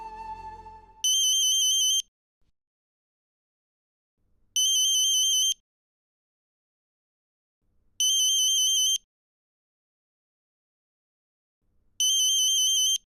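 A telephone ringtone plays in four identical bursts about a second long, separated by roughly two-second silences, clear and close, for a call coming from a private number.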